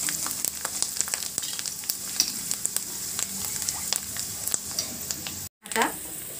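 Turmeric is stirred into sizzling garlic and red chillies in oil for a Maharashtrian dahi kadhi, a steady crackling fry with frequent small spoon taps, broken by a moment of silence near the end.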